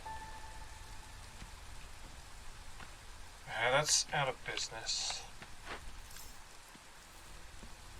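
Steady drizzling rain patters through a session of the video game Against the Storm, a soft constant hiss under a man's brief speech.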